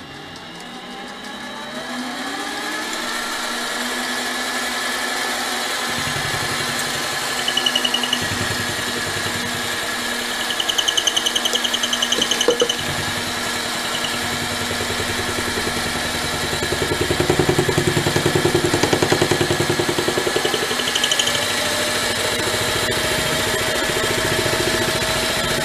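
A mini lathe runs steadily at about 860 to 870 RPM, a close, even motor whine with a constant hum that swells slightly at a few moments.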